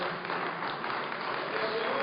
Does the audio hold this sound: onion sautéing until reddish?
no